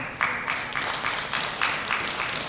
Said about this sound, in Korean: 부자 신부님에게 박수 한번 보내주세요